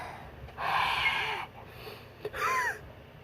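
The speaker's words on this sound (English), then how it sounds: "all she heard was heavy breathing" Two long, heavy breaths, each a harsh rasping rush of air with a short pause between, close by with no talking.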